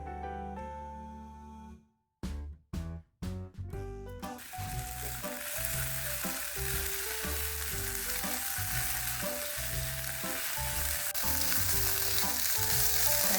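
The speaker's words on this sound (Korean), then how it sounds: "양파가 꽤 오랜 시간 볶아서 이렇게 노릇해주면" Onions stir-frying in a pan for a long time until golden, with a few sharp clatters of a utensil first, then a loud, steady sizzle that keeps building, close up and with no talking.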